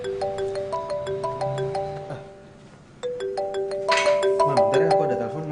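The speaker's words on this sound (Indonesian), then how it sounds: "aku ada telepon" A mobile phone plays a melodic ringtone, a bright repeating chime pattern that pauses briefly and then starts again, loud and close.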